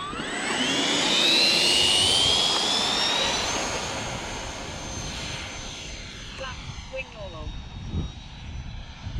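A Freewing F-14 twin 80mm EDF radio-control jet with afterburner effects flies past outdoors, a loud rising and falling turbine whine that swells early, then fades as it moves away, with wind rumble and a voice talking faintly over it.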